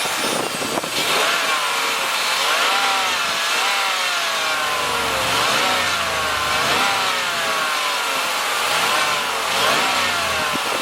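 A 2022 Jeep Grand Wagoneer's 5.7-liter V8 with eTorque runs loud and close, revving with rising and falling pitch sweeps over a steady rumbling drone throughout.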